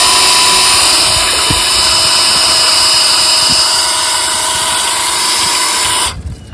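A 9.5 HP outboard motor runs steadily during a cooling test, giving a loud, even mechanical drone with a hissing edge that holds close and constant, then cuts off abruptly near the end.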